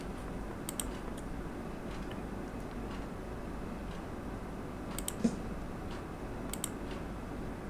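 Computer keyboard shortcut presses in MuseScore 4 land as sparse, quiet clicks, some in quick doubles, scattered over a steady low background hum.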